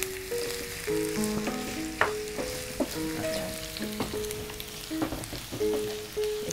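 About a cup of chopped onion fries and is stirred in hot oil, crackling and sizzling steadily close up while soft music plays underneath.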